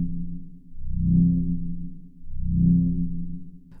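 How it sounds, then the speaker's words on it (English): A deep, dark dubstep bass synth made in Serum, dropped an octave with the EQ switched off, rolls in two slow, smooth swells, low and rumbling with no other sounds. "Also sounds nice, really relaxing, kind of dark dubstep bass, deep dubstep bass"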